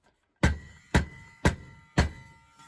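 Four sharp, heavy bangs of a power tool being knocked to clear dust from an intermittent switch land at an even pace, each a hard knock with a short ringing decay, close and loud.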